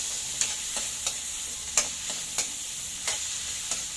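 Tomatoes sautéing with garlic and onion in a wok, with a continuous close sizzle broken by regular sharp spatula taps against the pan about every half second.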